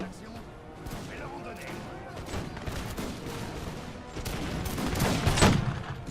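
Musket volleys from Fusiliers and Landwehr cutting down the Polish Legion in Napoleon: Total War, a crackling fusillade of dense overlapping shots that swells toward the end, with a voice talking over it.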